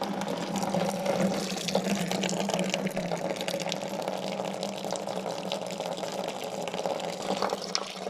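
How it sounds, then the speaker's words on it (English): Homebrewed beer decanted into the bottom of a fermenter after chilling: a steady, close gush of liquid splashing and pouring without pause, continuous and fairly loud throughout. "this is how I decant my beer into the bottom of the fermenter"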